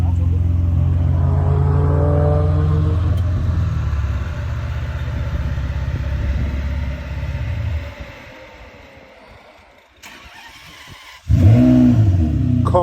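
A Ferrari 599 V12, converted to a six-speed manual and fitted with a Capristo exhaust, accelerates with a loud, close engine drone that drops away briefly, then surges back hard near the end.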